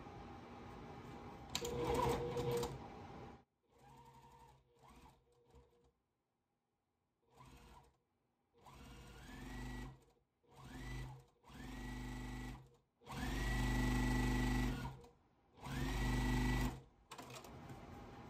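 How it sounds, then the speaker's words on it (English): A sewing machine stitches together quilt block pieces, half-square triangles joined to the side of a Four Patch Basket block, in several bursts of steady motor whirring broken by short pauses and a stretch of near silence. "So now I'm going to sew those to the left side of the block."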